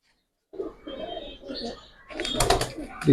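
A pigeon with a parrot-shaped, needle-like beak, from an old breeding line, coos close by. Overlapping talk runs through the coos and grows louder toward the end.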